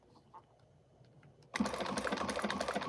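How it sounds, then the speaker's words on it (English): Sewing machine stitching and back-stitching fabric while a quilt is being made, starting abruptly after a quiet moment with light handling noises, then running in a fast, steady, close-up mechanical whir. "And just sew up to it, and I'm going to back stitch over it."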